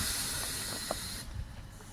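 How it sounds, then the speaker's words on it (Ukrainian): A passenger train in Kharkiv hissing as its doors close and it pulls away: a loud, steady high hiss of escaping air that cuts off abruptly partway, followed by low rumbling and a couple of soft knocks. "Потяг"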